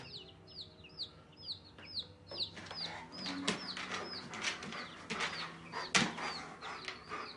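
Chickens clucking at close range in a yard by a border fence, with repeated soft clucks and chirpy calls overlapping in an irregular rhythm over quiet background hum.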